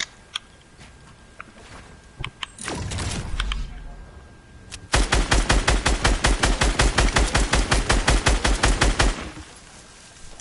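Rapid automatic gunfire rings out in a PS4 shooter game: scattered single shots and a muffled burst come first, then a long, loud, evenly paced volley that stops abruptly.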